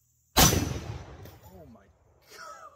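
A single loud gunshot cracks sharply at the start and decays with a long ringing tail, while a voice speaks faintly in the background afterward.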